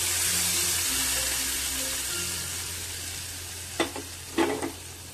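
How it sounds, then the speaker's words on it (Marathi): A continuous hot sizzle as a tempering with asafoetida hits Punjabi kadhi, with a low hum underneath and a couple of sharp spoon clinks near the end. "आता कढीवरती आपण ही फोडणी घालून घेऊ"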